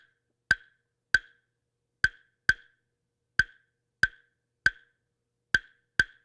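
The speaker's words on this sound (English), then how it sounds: "So the first pattern we're going to do is called son clave," Wooden claves striking a son clave pattern, sharp bright clicks in spaced groups of three and two against silence, close and alone.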